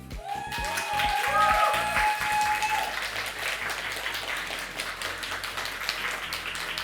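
Audience applause for a contestant at a barista championship final, a broad wash of clapping that swells early and carries on steadily with some tonal background sound underneath.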